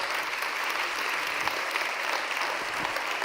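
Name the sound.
audience applause for panel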